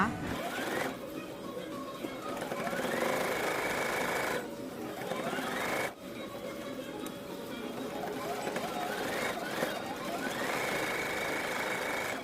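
A sewing machine runs in steady bursts while stitching an inset zipper pocket on a bag lining, with its buzzing needle rhythm pausing briefly between passes and someone talking quietly over it.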